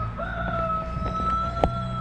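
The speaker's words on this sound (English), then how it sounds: "my neighbor has chickens" Neighbor's backyard chickens, a rooster crowing with a long sustained call and a short sharp cluck near the end, at moderate distance over a low background hum.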